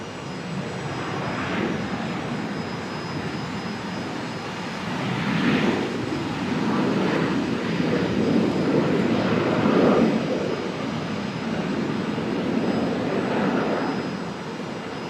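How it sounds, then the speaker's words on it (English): A Qantas airliner comes in to land on runway 01 right at Brisbane Airport, its steady jet engine roar swelling mid-clip and then easing off at a moderate distance, with no talking. "We're going to get Qantas 126 all coming in on this runway."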